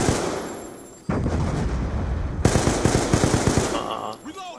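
Rapid bursts of SCAR rifle fire in a multiplayer shooter game, loud and close, with a sustained automatic volley followed by a second stretch of sharp repeated shots that fade into softer game sounds at the end.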